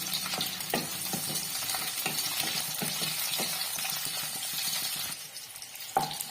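Chopped onion and capsicum fry in oil in a kadai for mushroom gravy, giving a steady close sizzle broken by repeated scraping stirs of a spoon, with no talking.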